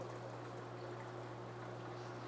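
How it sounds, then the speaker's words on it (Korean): Hanil IP-210 residual-water pump draining aquarium water rapidly, a steady continuous rushing flow with a low motor hum throughout, moderately quiet and close, no talk. "물 빠지는 속도 보이시죠, 형님들? 생각보다 굉장히 빠릅니다."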